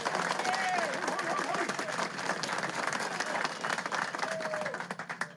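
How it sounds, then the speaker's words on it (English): A football team's locker-room gathering breaks into a round of applause, dense steady clapping with some whoops over it, fading near the end. "Give yourself a round of applause."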